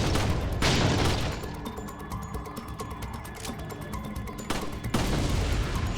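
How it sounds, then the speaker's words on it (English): Gunfire in Resident Evil 4 crackles through dense bursts of repeated shots and booms, loud and continuous across the whole stretch with heavier blasts at the start and end. "Shooting"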